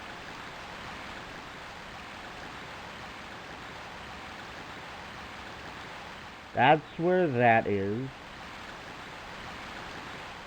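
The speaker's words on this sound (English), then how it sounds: "I can't do anything because of the rushing water" Steady broadband rush of water in Tomb Raider II fills the whole scene at an even level, with a short burst of talk partway through.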